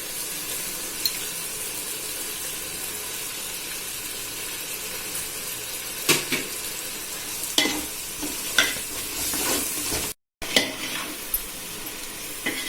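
Tomatoes fry, sizzling and crackling in a pan while a utensil scrapes and stirs in occasional bursts, with a brief dropout midway.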